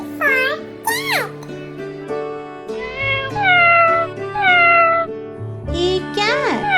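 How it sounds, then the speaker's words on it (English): A cat meows several times, clear and close, with rising and falling cries repeated over a steady tonal music bed. "C for cat."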